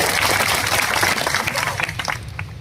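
An outdoor crowd at a farmers' gathering in Junagadh claps in applause, a dense patter that is fairly loud at first and then thins and fades out.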